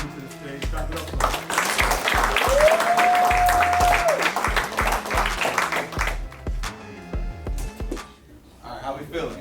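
An audience claps and cheers as the speaker Debo comes to the stage at a motivational talk for at-risk youth. Loud, sustained applause runs under music and a sung or whooped voice, then the clapping thins out toward the end.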